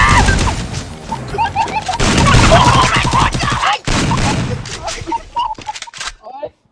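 Sniper and other gunfire ring out in a shooting video game, with crashing, smashing impacts and loud rapid bursts packed across the stretch, then thinning out into scattered hits before a brief silence.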